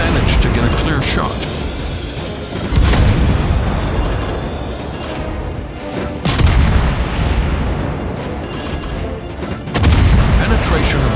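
Naval gunfire from a Tier 9 Halford destroyer in the World of Warships Blitz mobile game, with heavy booming blasts recurring every few seconds over dense rumbling battle noise and a game voice announcing events.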